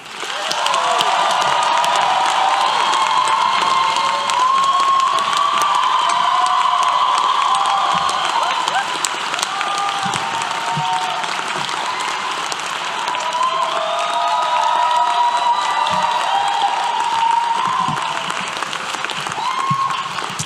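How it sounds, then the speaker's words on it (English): Large audience at a University of Colorado Law School commencement applauding and cheering steadily for about twenty seconds, a loud sustained wash of clapping with whoops and shouts rising over it. "let's at least give Professor Bloom the biggest round of applause as we welcome him to the stage."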